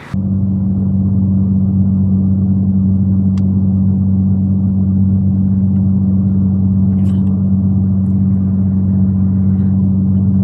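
Inside a Dodge Challenger muscle car on the move, a steady loud low engine rumble drones evenly throughout with no clear revving.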